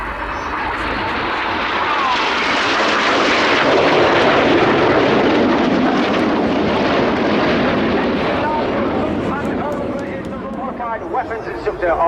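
Eurofighter Typhoon fighter jets pass low over the airfield at the RAF Cosford Airshow 2024, a loud, sustained engine roar that swells to a peak and slowly fades.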